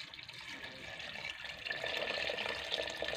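About 1.5 liters of water pours steadily into a cooking pot of beef pulao in a home kitchen, a continuous rushing splash that grows a bit fuller and louder partway through, with no talk.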